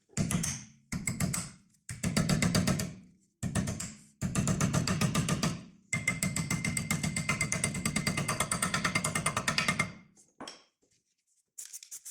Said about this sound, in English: you'll have to hammer it with a hammer until it will go in place